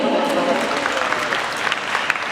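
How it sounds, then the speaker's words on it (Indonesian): An audience at an award ceremony applauds recipients, a dense wash of clapping with some crowd voices mixed in, fairly loud and continuous. "para hadirin sekalian, berikan tepuk tangan yang meriah"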